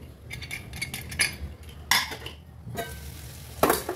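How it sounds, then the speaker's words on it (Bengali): Fried vegetables tipped into a simmering chicken stew, with irregular stirring scrapes, utensil clinks and bursts of sizzle against a low steady bubbling, close and moderately loud, no talking. "এবার এই ভাজা ভেজিটেবলগুলো স্যুপের সঙ্গে দিয়ে দিচ্ছি, স্টুয়ের সঙ্গে।"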